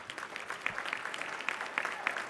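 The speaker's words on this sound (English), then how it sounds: "I'd like you to please give her a big round of applause" A room claps for an honoree at the 2015 Women's Bar Association of Illinois installation, a modest, fairly quiet patter of hands that continues evenly throughout.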